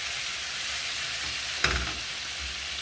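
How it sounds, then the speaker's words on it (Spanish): Chorizo tacos dorados fry in a pan with a constant hissing sizzle, broken by one brief scrape and clatter as they are stirred, no talk. "vamos a moverlo un poquito para que se dore parejito"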